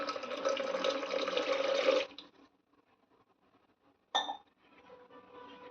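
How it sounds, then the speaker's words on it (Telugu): Water pours in a steady, loud rush for about two seconds onto squeezed tomato pulp for tomato rasam, then stops; after a quiet pause comes a single sharp clink, followed by faint trickling. "ఇలా కొన్ని వాటర్ పోసుకోవాలి."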